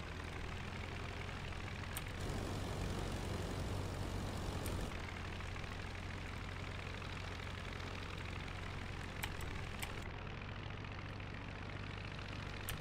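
Propeller aircraft engine from the Rise of Flight World War I flight game, a steady loud droning hum with a low throbbing tone held throughout, punctuated by a few brief sharp clicks, with no talk.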